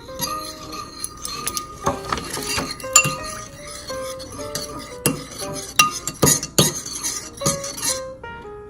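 A dish soap solution being mixed in a container, heard as irregular light clinks and taps of a utensil against glass, close and fairly quiet, with no talking.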